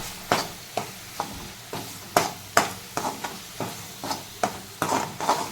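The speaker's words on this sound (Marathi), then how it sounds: "गोडा मसाला आपण तयार करून ठेवलेला असतो तो आपण थोडा वापरणार आहोत आता हे चांगलं आपण भाजून घेणार आहोत" Goda masala roasts in hot oil while a spoon knocks and scrapes against the pan in a steady rhythm of about a dozen strokes over a light sizzle, close and clear with no talking.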